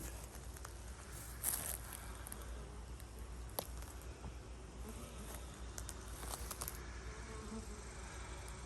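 Honeybees buzz steadily around the hives of an apiary in August, a dense continuous insect hum with a few brief louder passes of individual bees close by.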